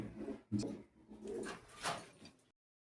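Red Bull pigeons coo in a close, soft series of throaty calls with short pauses, ending in silence after about two and a half seconds.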